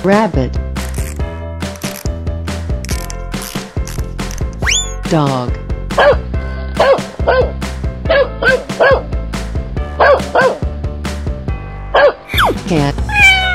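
A cartoonish dog barking in short repeated yips and bow-wows over bright children's music, with cat-like calls mixed in, loud and close throughout.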